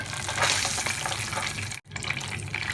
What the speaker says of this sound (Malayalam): എണ്ണ ചൂടായിട്ടുണ്ട്. ഞാൻ അതിലേക്ക് ഓരോ കട്ട്ലേറ്റായിട്ടിട്ട് ഫ്രൈ ചെയ്യാവേ.